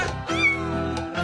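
A single drawn-out cat meow from the video game Cat President, rising and falling over about a second, close and clear with no speech.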